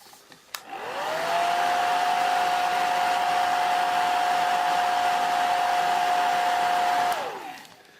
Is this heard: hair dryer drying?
yes